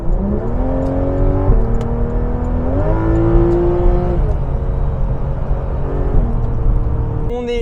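A Porsche 911 GT3 RS with PDK gearbox cruising on a motorway: a loud, close engine drone rising and falling through several gear shifts, with wind and road roar underneath.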